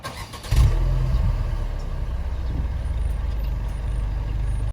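A Mercedes car engine starts with a sharp burst, then settles into a steady, loud, low idle that continues without voices.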